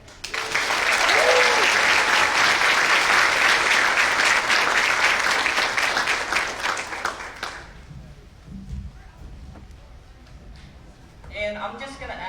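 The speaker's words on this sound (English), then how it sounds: "please give a round of applause to Vang" A film festival crowd gives a loud, dense round of applause to welcome actor Bee Vang for opening remarks, sustained for several seconds before dropping off to quieter room sound and faint talk.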